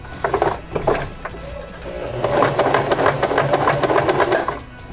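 A sewing machine runs a zigzag stitch to fasten a button, giving a quick mechanical clatter in short bursts at first and then a steady run of rapid ticking stitches, close and clear.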